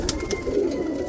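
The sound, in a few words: roller pigeons cooing in a loft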